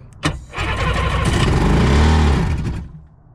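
An old jet ski engine coughs, then catches and revs up with a rising throaty drone that holds near full throttle for about two seconds before dropping away, loud and close, with no talking.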